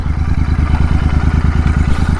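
A Continental GT 650 motorcycle with a Red Rooster exhaust runs close and loud, giving a steady, deep, rapidly pulsing exhaust throb with no talking.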